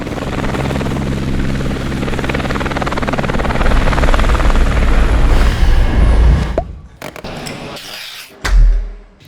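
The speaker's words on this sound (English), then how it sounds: "the helicopter is leaving" A helicopter's rotor thumps loudly and steadily nearby, then the noise cuts off abruptly into a few scattered knocks and bumps.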